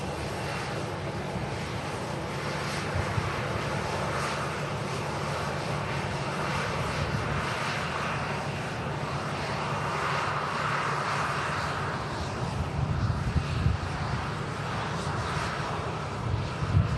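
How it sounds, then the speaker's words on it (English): A Scandinavian airliner rolls down the runway for takeoff, its jet engines producing a steady, loud broadband roar that holds for the whole stretch, with gusts of wind buffeting the microphone. "Scandinavian is on the takeoff roll."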